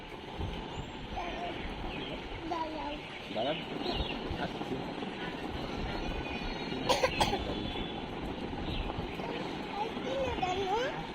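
A child with a cold coughs in a short burst amid the crowded bustle of a suburban railway station, with train noise, a steady hum and voices talking throughout.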